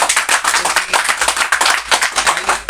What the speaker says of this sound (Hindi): सभी लोग जोरदार तालियों से भाई का स्वागत करें